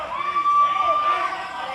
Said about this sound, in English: Beef having a lot of the Davis Arena crowd behind him as they're counting out those punches to DJ